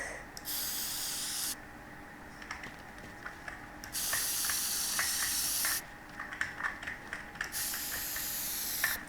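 Hissing bursts from a fire extinguisher in the game Teardown, three broad spray blasts of a second or two each, separated by quieter gaps filled with small clicks and rattles.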